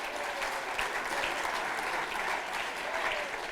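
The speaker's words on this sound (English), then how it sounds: "Give yourselves a round of applause." A roomful of guests at a journalism awards ceremony breaks into sustained applause, a thick, steady clapping texture with faint crowd murmur underneath, fairly close and even in level.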